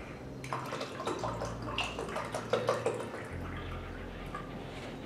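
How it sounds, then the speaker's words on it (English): Chai concentrate and almond milk poured into a coffee cup, giving a soft, steady liquid trickle with a few small splashes and drips, fairly quiet and heard on its own. "You just pour half of the almond milk and half of the chai into your coffee cup"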